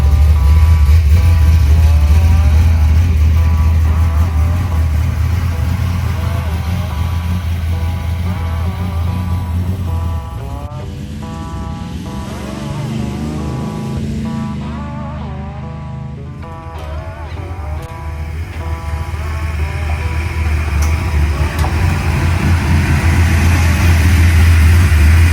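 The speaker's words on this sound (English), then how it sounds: "then took the Dart out for a test drive to make sure it's right." A Dodge Dart rumbles along on a test drive, its engine a loud, continuous low drone that eases slightly midway before swelling again.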